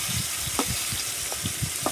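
Slices of bitter gourd fry in hot oil with a steady close sizzle, while a few soft stirring scrapes and light pops break through now and then, and nobody speaks.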